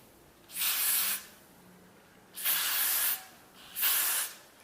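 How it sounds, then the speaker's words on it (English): Three bursts of aerosol hairspray sprayed onto hair, each a steady hiss lasting about half a second, separated by short pauses, close and fairly loud. "Then I like to take a little bit of this hairspray"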